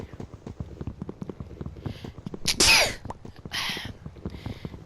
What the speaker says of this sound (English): Sneezing.